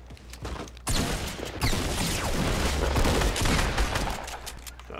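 Sustained Fortnite gunfire during a squads match, a loud dense fusillade of rapid shots kicking in after a second and continuing almost unbroken, with heavy booming lows and bright crackling bursts.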